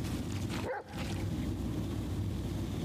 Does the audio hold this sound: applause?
no